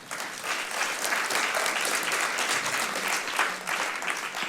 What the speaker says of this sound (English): Big applause for Jonas